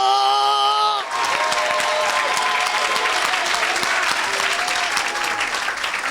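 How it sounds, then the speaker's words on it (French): A church congregation at an evangelistic gathering breaks into loud applause and cheering right after a sung or sustained tone cuts off, dense clapping continuing steadily to the end. "Clap your hand to Jesus. Donne-lui gloire. Donne-lui une grande acclamation."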